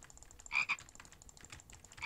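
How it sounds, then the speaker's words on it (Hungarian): A video game creature gives out several short, close frog-like croaks in quick clusters against a quiet background with faint clicking. "Ilyen hangja van. Ez egy békának esküszöm."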